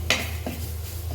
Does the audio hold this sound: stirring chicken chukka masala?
yes